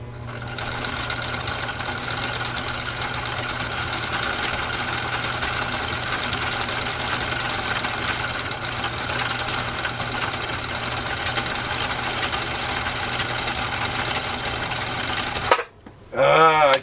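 A Husqvarna Viking 2000 sewing machine runs steadily while sewing a decorative stitch, a continuous mechanical hum and rapid rattle at close range that stops abruptly near the end.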